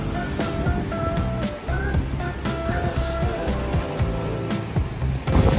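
Sea surf at a beach in Sydney on an overcast day, a steady broadband wash of waves mixed with passing road traffic and other background noise, moderately loud and continuous.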